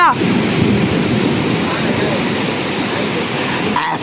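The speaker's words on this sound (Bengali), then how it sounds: "কত স্পিডে কত মুসলধারে বৃষ্টি হচ্ছে প্রচুর বৃষ্টি হচ্ছে" Heavy torrential rain pours down at night in a steady, loud, dense roar that fills the whole stretch without a break.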